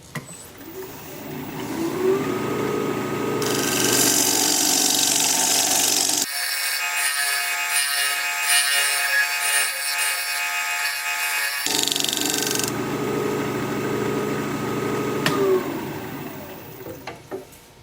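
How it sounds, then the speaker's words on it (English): A 1/2-inch standard grind ball gouge cuts a wooden bowl on a spinning lathe, giving a loud, continuous scraping whir with a steady mechanical hum and a brief change in tone partway through. "I've switched to a 1/2" standard grind ball gouge"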